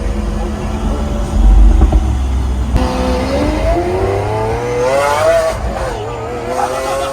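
A Lamborghini Aventador engine, heard from the passenger seat, roars loudly as the car accelerates hard, its pitch climbing through sweeping revs with a brief surge and gear changes along the way.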